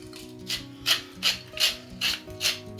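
Black pepper is ground over salmon in a bowl with a hand pepper mill, producing a steady series of rhythmic ratcheting crunches, about seven close twists with no talking.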